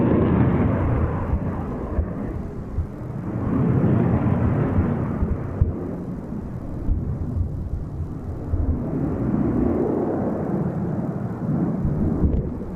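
An aerobatic airplane at Old Buckenham Airshow flying a barrel roll with its undercarriage down. Engine drone that swells and fades in repeated waves, heard from a distance as the aircraft rolls.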